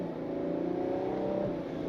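A 2026 Ferrari 12Cilindri in sport drive mode under gentle throttle, its engine building in a steady, smooth drone that holds fairly constant and sounds close, with no talk over it.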